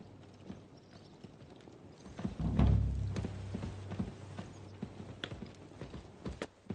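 Horse hooves clip-clop in the medieval video game Kingdom Come: Deliverance 2, a series of hollow thuds on the ground that swells to a louder cluster midway, with a low mechanical rumble behind and no speech.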